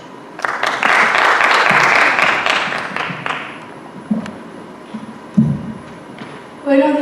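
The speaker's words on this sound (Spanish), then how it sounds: "Un aplauso" Audience applause at a political speech event for the APRA party, a dense burst of clapping that swells for about three seconds, then thins into scattered claps and a few louder thuds.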